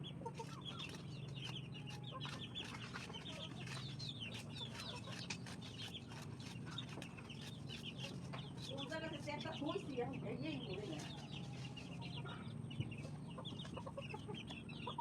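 Chickens clucking around a rural household yard, a scattered run of clucks and small calls over steady background noise, with people talking through much of it.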